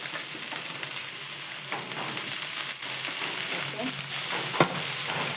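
Onions, green chilli and ginger-garlic paste fry in a pan for mushroom masala while being stirred, producing a continuous close sizzle broken by scraping stir noises and a few sharp clicks.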